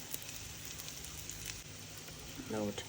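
Egg-coated bread toast frying in a pan, a soft steady sizzle under faint background noise, with a brief clink of a utensil near the end.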